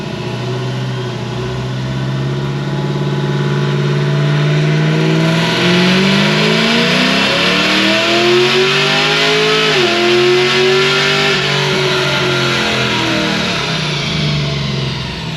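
A Whipple supercharged Chevy SS accelerates hard, its engine note rising loudly in pitch, dropping sharply at a gear shift, then climbing again, heard close and alone.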